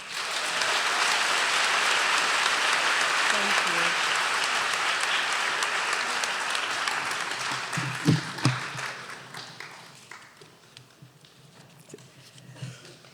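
Audience applause at a university lecture series event, a dense, steady wash of clapping that thins and fades over the second half, leaving scattered claps near the end.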